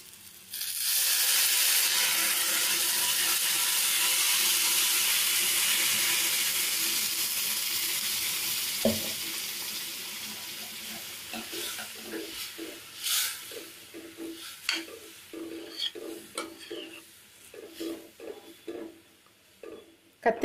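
Water poured into a pan of simmering brinjal (eggplant) gravy on the stove, opening with a loud, sustained hiss and sizzle that gradually fades into softer bubbling, with scattered stirring clinks and light knocks toward the end.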